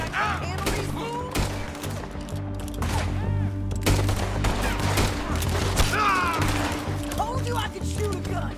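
Gunfire in Red Dead Redemption 2 crackles in rapid, overlapping bursts through the whole stretch, a dense shootout with voices talking over it and a steady low hum underneath.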